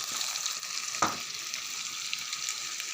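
Bitter gourd curry frying in a pan, a steady close sizzle with a brief clink of a spoon or salt being added near the middle, no voices.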